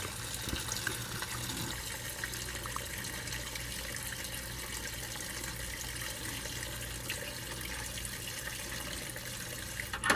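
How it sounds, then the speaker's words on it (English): A continuous stream of fuel pours out of a car's tank into a container, a steady, close splashing trickle lasting throughout with no voices. "the stream's just going to get a little bit slower, but there's still a lot of fuel left"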